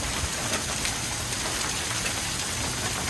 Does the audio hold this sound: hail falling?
yes